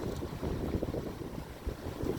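Steady, blustery wind at a beach on a gray morning buffets the microphone in a low, continuous rumble, with a faint wash of water behind it.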